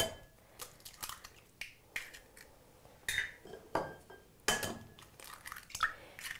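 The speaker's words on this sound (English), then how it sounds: "I'm going to go ahead and start cracking my eggs." Eggs are cracked into a bowl in a kitchen, giving a series of sharp, close taps and cracks spaced about half a second to a second apart, each followed by a short clatter, fairly quiet, with no voices.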